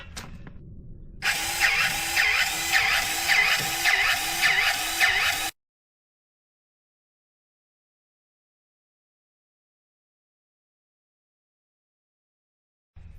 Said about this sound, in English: Okay, we're ready to pump grease back in this thing.